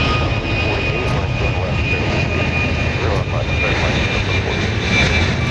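Boeing 737 MAX 8 departing Dallas Love Field, a steady, fairly close jet engine roar with a thin whine on top, as someone speaks over it.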